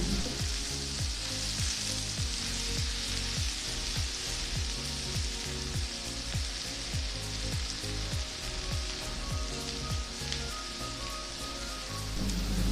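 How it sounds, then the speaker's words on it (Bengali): Diced potatoes frying with a little salt in oil tempered with asafoetida, a steady close sizzle with faint rhythmic stirring taps throughout, no voices. "আলু ভাজার সময় একটু নুন দিয়ে ভাজবো"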